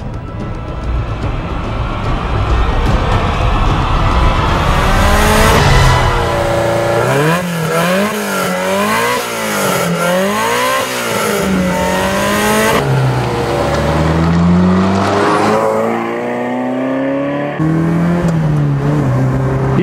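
A Ferrari 328 GTS drives along small country roads, its engine loud and close as it revs up and down through repeated accelerations and gear changes, with rising and falling pitch.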